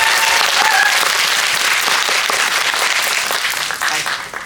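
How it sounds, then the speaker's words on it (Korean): Audience applause in a cinema auditorium during a movie Q&A, dense and loud throughout, tapering slightly toward the end. "그거 원하시면 박수."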